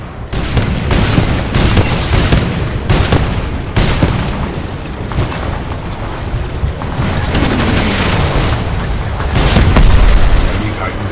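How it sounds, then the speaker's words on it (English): A salvo of tracking rockets from a Titan in Titanfall 2 detonates in a dense run of loud booms and rumbling blasts, close and continuous, with in-game voices faintly under the barrage. "we can lock onto enemies and target them with tracking rockets"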